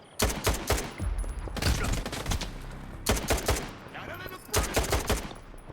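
Repeated bursts of gunfire from the video game S.T.A.L.K.E.R. 2: Heart of Chernobyl, with a weapon set to single fire, arriving in loud clustered volleys of sharp shots separated by brief pauses, with no talking.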